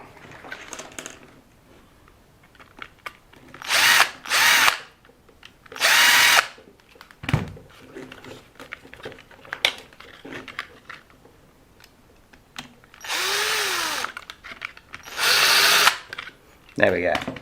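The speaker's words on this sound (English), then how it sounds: "two screws on the other side of the wing need to come out" A power drill runs in short bursts to back screws out of an LC Racing L6039 bumper on a 124019 RC car, each loud whir stopping abruptly, with someone talking between bursts.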